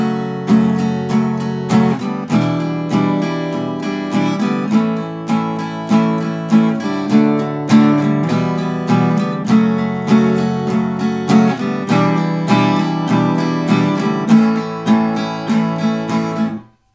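An acoustic guitar strums a repeating chord sequence in a steady rhythm, loud and close with no voice, each chord struck crisply before the final chord is cut off.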